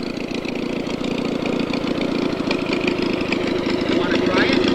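An antique tractor engine idles steadily at an outdoor tractor show, a continuous close chugging drone with fast even firing pulses and no breaks, while people talk nearby.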